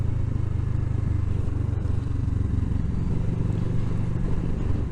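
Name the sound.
Kawasaki ER-6f motorcycle riding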